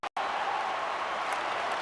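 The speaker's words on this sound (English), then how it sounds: "the crowd's on their feet, saluting the team after a hard-fought effort this evening" A hockey arena crowd applauding in the video game NHL 25 makes a steady, dense roar of clapping and cheering after a brief cut, holding at an even level throughout.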